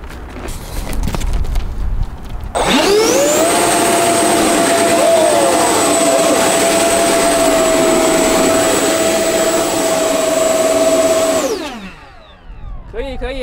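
A ducted-fan model Su-47 forward-swept-wing fighter jet spools up on a thrust test, a rising whine settling into a loud, steady high-pitched electric fan scream that holds for about eight seconds before winding down, with faint background noise around it.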